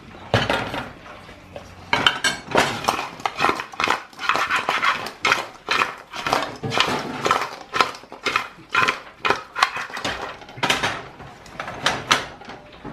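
A utensil works through Haitian griot marinade of pork with lemon juice, onion and hot pepper, giving a steady run of close, wet clinks and scrapes against the bowl that keep going for about thirteen seconds.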